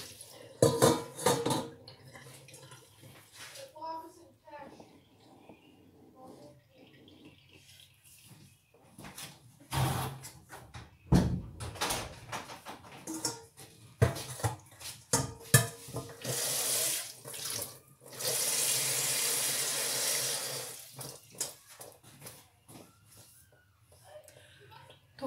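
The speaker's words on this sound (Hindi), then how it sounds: "और इसमें पानी डालेंगे।" Water goes into a pot holding half a kilo of mutton for karahi, with intermittent running and splashing, clanking pans and utensils, and someone talking between the bursts.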